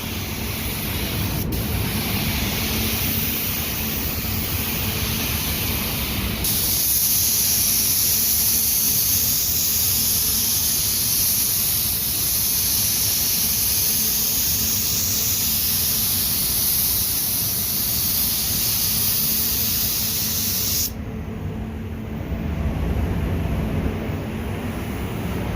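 Spray gun laying down silver base coat paint on a car hood in a body shop, a loud continuous hiss of atomized paint running steadily almost the whole time with a brief pause near the end.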